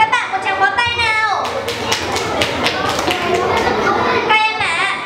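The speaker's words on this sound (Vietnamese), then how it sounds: "Các em hãy thưởng cho các bạn một tràng pháo tay nào." Children at a school contest clap in a burst of applause, dense rapid hand claps mixed with young voices chattering and calling out, fairly loud and close throughout.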